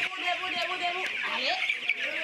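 Broiler chickens on a poultry farm cluck and call continuously, close and fairly loud, with several birds overlapping against a steady background hiss.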